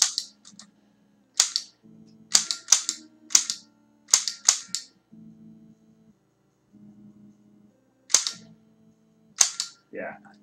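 Electronic gunshots from the NES Zapper light-gun game Freedom Force: about a dozen sharp, loud bursts in irregular clusters, with quiet game hum and short tones between them, no talking.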